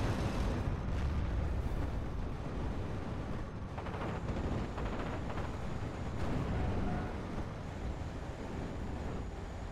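Continuous rumbling barrages of artillery fire in the Steel Division Normandy 44 video game, dense overlapping booms and bursts forming a loud, unbroken roar with no talk.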